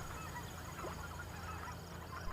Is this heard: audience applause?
no